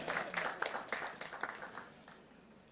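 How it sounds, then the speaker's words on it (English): Audience applause at a corporate results presentation, a brief burst of scattered hand clapping that thins out and fades over a few seconds, fairly quiet and roomy. "clap if you want to clap."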